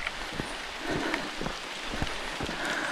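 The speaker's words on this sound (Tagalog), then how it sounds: "tulo ng ulan" Rain drips and patters steadily on a mountainside at night, a dense hiss of rainfall with scattered individual drops landing close by.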